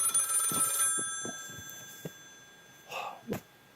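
A telephone rings in an off-grid winter cabin, a faint bell-like tone with harmonics early on, followed by scattered quiet knocks and rustles and a couple of soft noises near the end.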